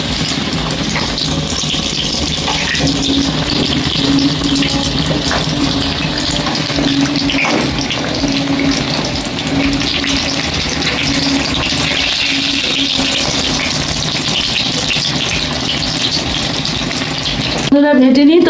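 Chicken sausages frying in oil in a pan, giving a continuous, fairly loud sizzle with a low steady hum beneath it, broken by a short different sound right at the end.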